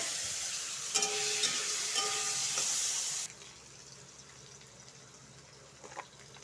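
Potatoes sizzle loudly in hot oil for about three seconds, then the hiss drops away to near quiet with a few faint clinks.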